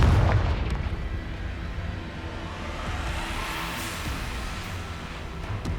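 Confringo blasting spell in the game Hogwarts Legacy, heard as a heavy boom with a deep rumbling roar that lingers and rolls on for several seconds, loud and close without any voices.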